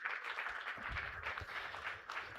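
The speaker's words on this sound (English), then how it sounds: "Come on, everybody. Presented by, come on, keep applauding." An audience at a large student creative showcase applauds with a dense, even patter of many hands clapping, moderately loud and steady throughout with a low rumble beneath.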